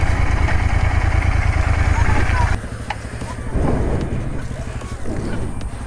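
A Royal Enfield GT-650 motorcycle idles with a steady, close low rumble that eases slightly partway through, while people talk over it.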